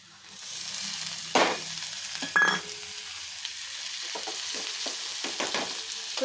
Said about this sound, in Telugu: ఆనియన్స్ ఫ్రై అయిపోతే దొండకాయ ముక్కలు వేసేద్దాం